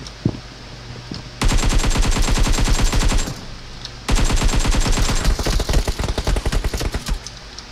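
Automatic rifle fire in the PUBG battle royale game: two long, loud, rapid bursts of gunshots, the second running a few seconds with brief gaps, dominating the mix.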